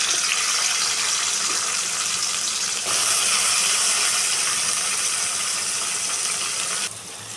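Small onions (shallots) and garlic fry in hot oil for a tamarind curry, giving a continuous loud, close sizzle with an even crackling texture that swells briefly midway and eases slightly near the end.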